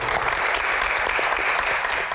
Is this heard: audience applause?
yes